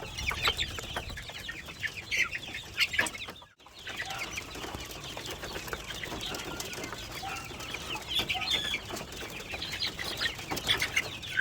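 Chicks crowd together to drink in a brooder, filling the space with constant high cheeping and peeping from many birds, fairly faint and continuous, with a brief silent gap early on.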